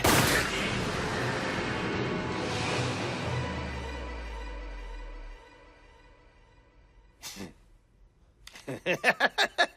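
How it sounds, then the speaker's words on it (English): Gunfire rings out in an anime classroom shooting scene, starting with a loud burst that fades into a low rumble. After a quiet stretch, a single sharp shot is followed by a rapid volley of distinct pops. "Student 12, stand and fire now!"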